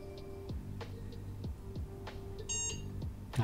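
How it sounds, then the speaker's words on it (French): A small home server restarting gives a short electronic beep, with a few clicks and soft knocks around it in a quiet room and no speech. "il a fait son petit bip, il est content."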